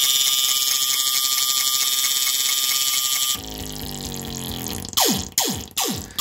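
MFOS Ultimate analog synthesizer producing a sustained tone that drops into bubbly, gurgling liquid-like sweeps, followed by rapid descending squelchy chirps, fairly loud and with no voices.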